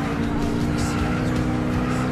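An Acura RSX races in the video game Gran Turismo 6, its engine holding a loud, steady drone with a hint of tire noise for a couple of seconds.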